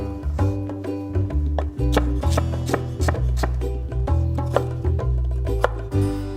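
A knife cuts potatoes into thick slices for sujebi on a cutting board, giving a regular series of sharp, close taps about once or twice a second alongside a background tone.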